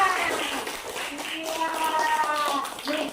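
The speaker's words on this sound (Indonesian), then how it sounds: "Tepuk tangan dulu semuanya." Schoolchildren clap their hands together in a classroom, a dense patter of many small hands mixed with children's voices calling out over it throughout.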